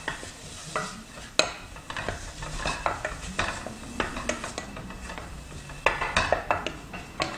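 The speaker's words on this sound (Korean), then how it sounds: "주걱 이용해서 냄비에서 볶아주세요" A spatula scrapes and clatters against a metal pot in steady, busy strokes while meat sizzles gently underneath, stir-fried for Korean beef porridge.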